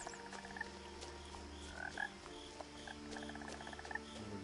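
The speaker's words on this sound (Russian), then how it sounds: "Лягушки квакают, сверчки поют." Frogs croak steadily in What Remains of Edith Finch, a dense rhythmic chorus of repeated calls with crickets chirping alongside, mid-distance and continuous across the ambience.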